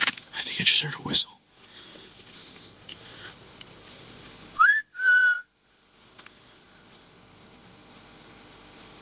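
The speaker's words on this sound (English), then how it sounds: "I think I just heard a whistle." A lone whistle in a forest at night gives one short rising tone and then a held note, set against a faint insect-like hiss and a few earlier rustles.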